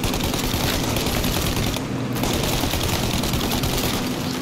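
Dense, continuous gunfire blasts through a car chase in the video game Mafia: Definitive Edition, loud and unbroken with rapid overlapping shots and a brief dip partway through.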